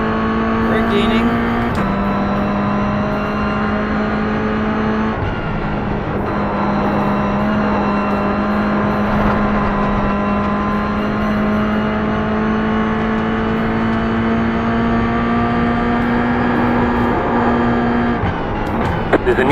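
Race car engines from an iRacing sim race at Pocono, a steady loud droning whine holding one pitch with gear-change steps, running continuously near and close throughout.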